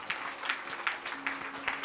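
A church congregation claps in praise during a Marathi sermon, a thin, fairly faint applause with a few louder beat-like swells roughly every half second, as if rhythmic clapping, with no one speaking.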